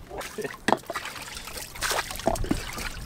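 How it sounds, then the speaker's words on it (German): Rainwater is bailed out of a flooded container after a wet morning, with irregular close splashes, trickles and sloshing scoops, while a voice murmurs faintly in the background. "das ganze Ding steht wieder voller Wasser. Müssen wir natürlich jetzt erstmal hier ausschöpfen"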